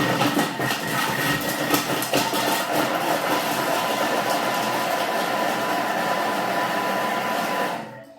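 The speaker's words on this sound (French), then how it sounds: "Donc là, 7 secondes vitesse 5 pour hacher nos oignons." Onions chopped in a kitchen food processor at speed 5 for a vegetable pâté, a loud continuous whirring motor with chopping rattle, steady for about eight seconds before cutting off abruptly.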